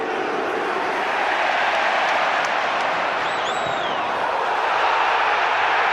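A large football stadium crowd at a Premier League match between Newcastle and Manchester United reacts to a foul with a sustained, loud roar of disapproval that holds steady throughout, with no commentary audible.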